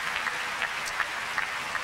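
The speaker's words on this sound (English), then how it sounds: "clap your hands to Jesus and thank God for revival" Church congregation clapping hands during a revival service: a steady, dense patter of claps with a few sharper accents, loud and continuous throughout, with no voices above it.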